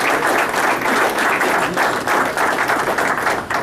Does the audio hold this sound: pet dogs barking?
no